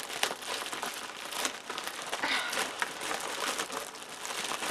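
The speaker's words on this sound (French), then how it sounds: "On va faire sauter le super plastique." Plastic wrapping being ripped off a large cardboard parcel during an unboxing, with a continuous close, loud crinkling and tearing that crackles steadily for several seconds.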